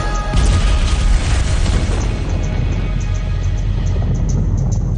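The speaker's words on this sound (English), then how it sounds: "Up there is where you're going to see it go boom." A large TNT charge detonated as a blast near a cliff top, heard as a loud, sustained roar that rumbles for several seconds before slowly tapering.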